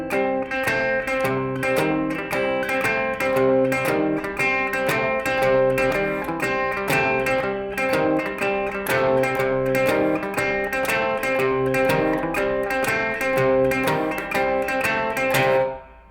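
Guitar playing a boogie groove, a steady, evenly plucked rhythmic pattern that repeats with bright attacks and continues alone without voices until it stops.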